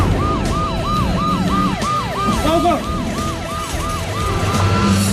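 An ambulance siren wails nearby in rapid, repeating up-and-down sweeps, loud and continuous over the rumble of traffic.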